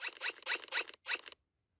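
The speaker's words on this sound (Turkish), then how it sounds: "Bu da fermuar arkadaşlar." Several quick zipper pulls in a row from the fidget toy game Fidget Toys 3D, crisp and close, with a short pause before the last one, then silence.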